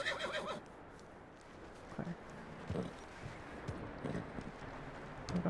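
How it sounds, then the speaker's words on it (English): Horse in the video game Red Dead Redemption 2 whinnying at the start, followed by soft hoof clops and shuffling movement over faint wind, fairly quiet throughout. "Calm the horse. Okay, calm down."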